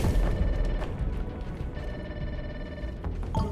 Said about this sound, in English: Hearing that ringing again.